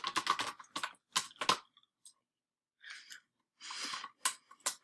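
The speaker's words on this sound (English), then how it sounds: "I'm going to type my next paragraph" Someone typing on a computer keyboard nearby in short irregular bursts of sharp key clicks separated by silent pauses.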